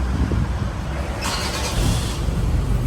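A Toyota Commuter van engine starting by push button: a steady low idle rumble, with a brief brighter whir as the starter engages, close and fairly loud.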